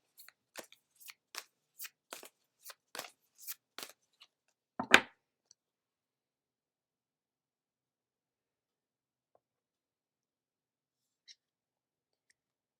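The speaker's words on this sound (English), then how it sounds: "Next, I will pull a card from the Labyrinth Tarot deck." Tarot cards from a Labyrinth Tarot deck are shuffled with a run of quick soft riffling snaps, then one card is drawn with a louder slap, followed by near silence.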